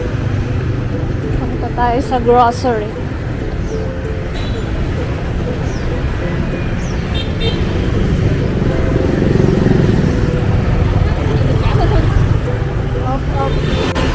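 A constant stream of motorbike traffic on a Vietnam street, with engines droning loudly up close and a few horn beeps, and people talking briefly over the roar.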